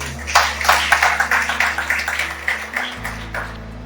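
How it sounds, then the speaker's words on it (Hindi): An audience claps in welcome at a Christian family seminar, a dense run of hand claps that swells then thins out over a few seconds, with no talking over it. "आइए हम ताली बजाकर स्वागत करें"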